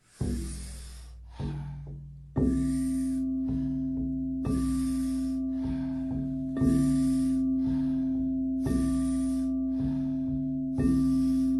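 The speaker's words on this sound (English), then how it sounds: "taking about 40 powerful breaths into the body through the mouth." Forceful breaths drawn in and pushed out through the mouth in a steady, repeating rhythm, with a sustained tone held underneath throughout.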